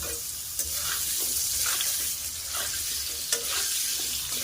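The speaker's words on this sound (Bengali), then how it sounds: "আলুগুলোকেও ভাজা করে নেব।" Potato pieces fry in hot oil with a continuous, even sizzle and crackle, close and steady, with a few faint stirring taps. No voices.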